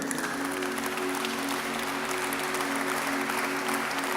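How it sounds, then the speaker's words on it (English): Men in a church congregation clap for the women on Mother's Day, a dense, steady wash of applause that runs the whole time with a low hum underneath. "I want all the men to clap for all the women"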